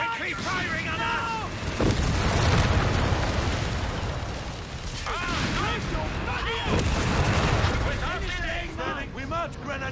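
Light artillery fire in the Company of Heroes 3 video game, heavy booms and bursts rolling under layered voiced unit chatter and battlefield noise, with loud impacts clustered around the second and seventh seconds.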